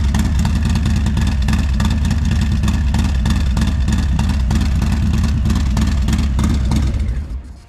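Continuous loud, close idle of a Harley-Davidson V-twin with a Stage 2 upgrade, a steady lumpy rumble with fine rhythmic clatter that runs unbroken before cutting off at the end.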